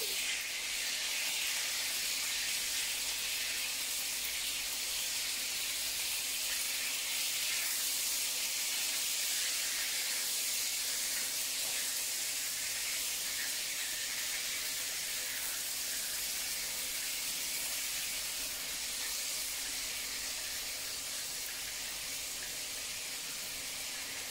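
Small meatballs for bun cha sizzle steadily in a pan after being turned, making a continuous close hiss that stays even and unbroken throughout, with no talking.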